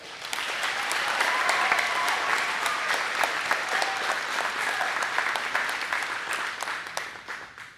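At a 2026 MHS high school graduation, the audience gives a full, dense round of applause that swells early, holds steady, then fades away near the end.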